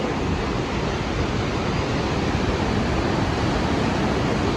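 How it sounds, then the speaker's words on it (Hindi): The Noori Chamb waterfall in Poonch gives a constant, loud, broadband roar of rushing water that stays steady and unbroken throughout, with no voices heard. "आज हम आए हैं नूरीचम वाटरफॉल और ये देखो नूरीचम"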